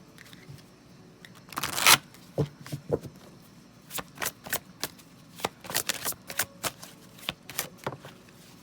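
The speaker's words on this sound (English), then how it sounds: "I'm drawn to get one more card from that deck." A tarot deck is shuffled by hand, one long riffle followed by a quick run of soft, rhythmic card slaps and flicks, close and fairly quiet.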